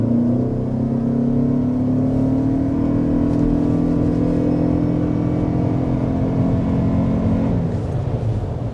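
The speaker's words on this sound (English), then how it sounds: "let's go ahead and start with a hard acceleration" A 2026 Toyota Grand Highlander hybrid accelerates hard to 60 mph, its engine drone rising steadily in pitch from inside the cabin, loud and continuous for several seconds before easing off near the end.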